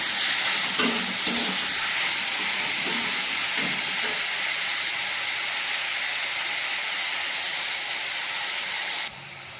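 Onion, capsicum and tomato fry in a pan with a steady, loud sizzle and hiss throughout, a few soft stirring knocks near the start, and the frying dropping slightly at the very end.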